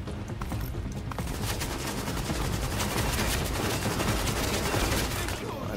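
Rapid gunfire in the video game Tom Clancy's The Division, a dense continuous burst of automatic shots crackling steadily for several seconds, with a voice briefly talking under it.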